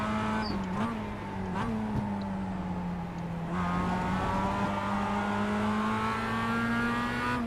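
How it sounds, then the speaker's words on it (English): A Mazda MX-5 Cup car in the iRacing sim holds a steady droning engine note with brief throttle blips that nudge the pitch up and down, close and loud throughout. "I just need to just blip the throttle a little bit coming out of the corner"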